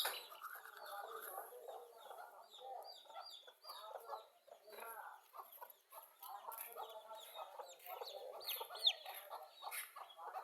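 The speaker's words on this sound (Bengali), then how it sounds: "এই যে আমাদের একটা সাদা মুরগি, লাল মুরগি" Domestic desi hens, white and red, cluck and chatter almost continuously at close range, with overlapping calls from several birds in a farmyard.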